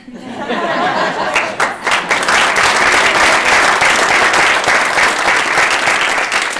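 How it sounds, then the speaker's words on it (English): Audience at an award ceremony breaking into loud, sustained applause, dense clapping swelling after a few scattered claps and holding steady with a little laughter mixed in. "let's have another round of applause for all"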